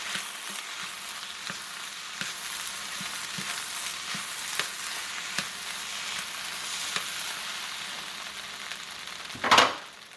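Steady sizzling of fried rice with egg frying in a hot pan, with soft periodic scraping and clanks from a utensil chopping and stirring, ending in a louder metallic clatter.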